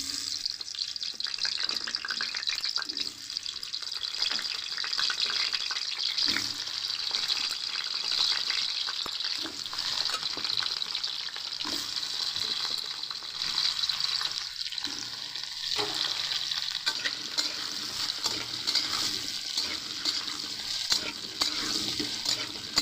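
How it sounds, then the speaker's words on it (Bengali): Potato pieces fry in mustard oil over a raised gas flame, a steady crackling sizzle that runs unbroken and fairly loud, with occasional clatter of stirring. "আলুগুলো আমি এবারে হালকা করে ভেজে নেব।"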